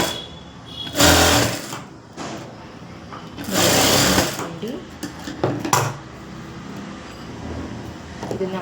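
A sewing machine runs in two loud bursts as a fabric strip is stitched onto a garment's front neck, and someone speaks between and after the runs.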